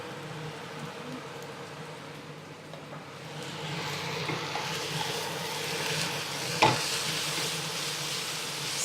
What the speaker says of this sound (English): Stir it all through.